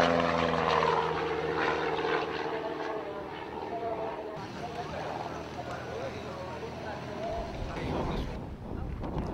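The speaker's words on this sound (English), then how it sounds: "aerobatic aircraft with side-by-side seating, powered by a 200 horsepower Lycoming IO360 flat four" An aerobatic side-by-side two-seater with a 200 horsepower Lycoming IO360 flat-four and a constant-speed Hartzell two-bladed propeller drones steadily overhead at an airshow, a sustained engine roar that fades and shifts in tone.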